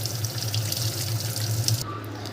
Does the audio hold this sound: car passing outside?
no